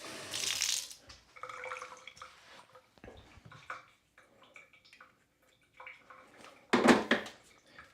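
Water runs briefly while espresso equipment is rinsed out after pulling a shot, with a short burst of splashing near the start and a louder gush near the end, quieter handling sounds in between.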